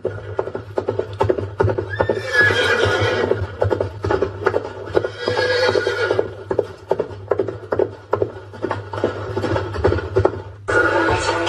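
A horse gives a loud, close whinny early on, set against clip-clopping hooves that tap in a steady rhythm throughout.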